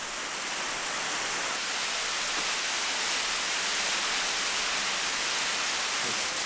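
A sudden dry-season rain shower over a sea-dwelling community's home on the water: a steady, dense hiss of rain falling heavily and evenly, with no pauses and no voices.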